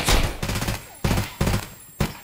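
Bursts of gunfire from Escape from Tarkov, a sharp opening volley followed by three more short, loud automatic bursts at roughly half-second intervals.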